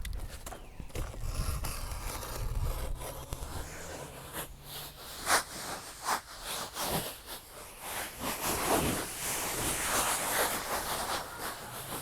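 Cardboard box holding a fully assembled RPS Hawk DLX 250 quadcopter being cut open, with scraping, ripping and tearing bursts that grow denser and louder through the second half, close by and without talk.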